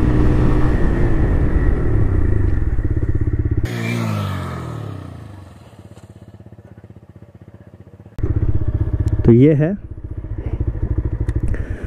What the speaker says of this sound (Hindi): तो ये मैं गाड़ी चला रहा हूँ 60 की रफ्तार में, ये देखिए।